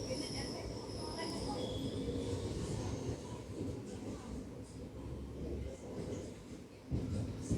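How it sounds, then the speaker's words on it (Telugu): Train slowing toward Begumpet station, rumbling and rattling along the rails with a steady low roar and faint high squeals, gradually easing as it slows. "బేగంపేటలో మన ట్రైన్ ఆగుతున్నట్టుంది"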